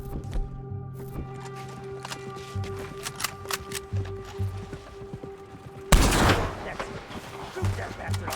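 Gunfire in the Red Dead Redemption 2 game, scattered shots over a steady ambient drone, then a loud burst of firing near the end with a voice heard briefly.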